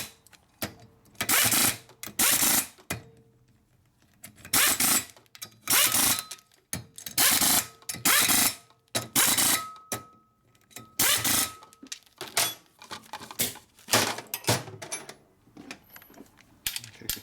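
Torque wrench tightening bolts in a pattern on a 1972 Harley FLH 98ci shovelhead stroker motor during a rebuild, heard as repeated bursts of ratcheting clicks, close and distinct, separated by short pauses.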